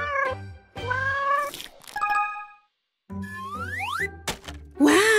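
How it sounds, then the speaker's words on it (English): A cat meows several times in a children's animal-sounds game, clear and close, the calls rising and falling with short pauses between them. "Cat! Yes!"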